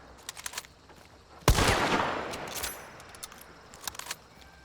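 Bullet cycling on a gun in the game Hunt: Showdown: a single sharp mechanical clack followed by about a second of rattling metallic action noise, with a few small clicks and taps before and after.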